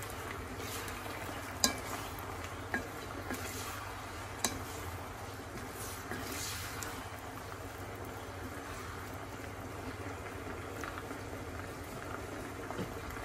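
Ginataang patani, lima beans in coconut milk, stirred in a pan as it bubbles on the stove: a steady simmering hiss with a few soft spoon ticks against the pan, close and fairly quiet.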